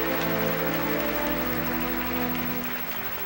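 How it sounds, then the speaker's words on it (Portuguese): A church congregation at a worship service bursts into sustained, dense applause that stays loud and steady throughout before easing slightly at the end, with a held organ or keyboard chord sounding underneath. "Uma linda salva de palmas a Jesus"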